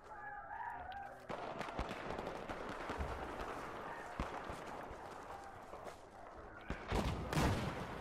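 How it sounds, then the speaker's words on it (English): Rapid gunfire from a Battlefield 4 quickscope match on PS4, with bursts of shots and game effects running steadily through the clip and a louder flurry near the end, and little talk. "I shot you, Paul."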